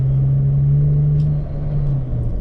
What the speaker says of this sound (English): if you can't hear it, it's a Vortec supercharged LFX V6 Holden